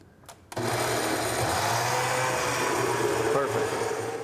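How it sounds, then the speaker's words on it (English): A blender purees African yam soup, switching on abruptly after a short quiet moment and then running as a loud, steady, high whirring roar until the end. "So if you see your soup not being pulled down by your blender, just add a little bit of extra liquid."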